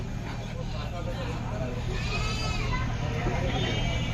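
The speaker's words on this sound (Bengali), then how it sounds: "ব্ল্যাক বেঙ্গল পাঠা" A Black Bengal goat bleats at a busy Qurbani cattle market in Ashulia, its wavering cries rising mid-clip over a steady crowd murmur and nearby talking.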